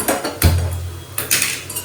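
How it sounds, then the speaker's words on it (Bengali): A washed metal kadai (wok) being set down on a kitchen stove, a few knocks and clatters of metal on metal with a low ringing resonance, close and fairly loud. "কড়াইটা ধুয়ে চাপিয়ে দিই"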